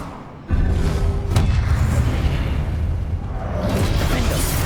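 A fire spell cast in Hogwarts Legacy bursts in with a sudden loud whoosh and thump, followed by a sustained roaring, crackling blaze amid game combat noise, with no voices.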